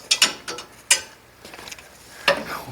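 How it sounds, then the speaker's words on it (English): A deep well socket wrench ratchets on a long track bolt of a Brunswick A2 bowling pinsetter, giving close, irregular bursts of metallic clicking with pauses between strokes. "Glad I bought the deep well socket."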